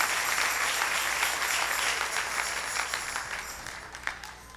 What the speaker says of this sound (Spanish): Dale ese aplauso al Rey en esta linda mañana